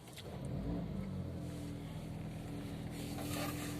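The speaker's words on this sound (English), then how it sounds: "Start the engine." A Mercedes CLA engine starts and settles into a steady, moderately loud idle hum close by, the drone continuing evenly with no talk over it.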